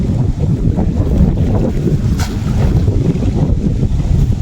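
Strong wind roaring steadily into the microphone, a loud continuous rumble with no voices.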